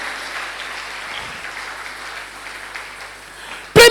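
Church congregation clapping and cheering in praise, a broad steady wash of applause that fills the space, ending in a sudden louder burst.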